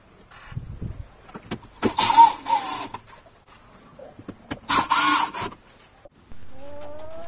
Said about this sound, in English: Now I'm just screwing on the cover that goes over the control box.